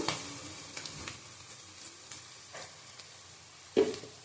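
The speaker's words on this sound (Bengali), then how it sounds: "ভালো করে ভেজে নেব দেখো গোটা গরম মশলা দিয়ে দিলাম" Whole garam masala spices fry in a spoonful of ghee with a few grains of sugar, a soft, steady sizzle close up, broken by light stirring taps and one sharper clink near the end.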